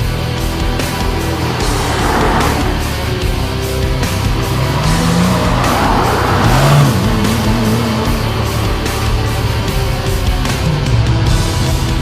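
Porsche 997 with a 3.6 litre engine rated at 480 brake horsepower, heard from the cabin while driving: a loud continuous engine roar that swells and eases as revs rise and fall, with road noise underneath.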